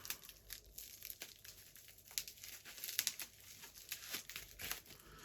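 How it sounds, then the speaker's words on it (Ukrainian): Packaging crinkles and rustles as a lost-mail parcel is carefully unpacked, with irregular close crackles and sharp rips throughout. "Я так ретельно розпаковую"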